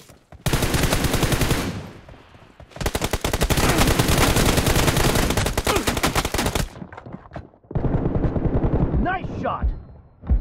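Loud, dense bursts of automatic gunfire from a team-based shooter video game, two long sustained volleys followed by a shorter burst with some faint chatter at the end.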